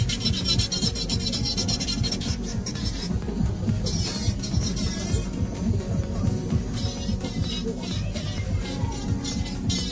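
An electric nail drill bit files and shapes a gel nail, bevelling through the body of the nail with a steady, continuous close-up whirring rasp and no speech throughout.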